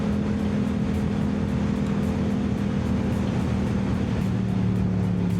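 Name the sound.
Yamaha R7 motorcycle engine revving with R6 throttle tube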